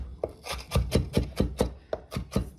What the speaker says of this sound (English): I'm going to now chop up the green pepper same way.